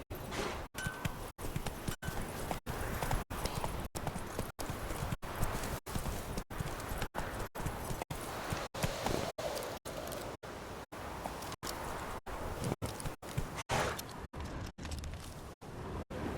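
Roach the horse galloping in The Witcher 3, a steady rapid clip-clop of hooves throughout, close and even in rhythm.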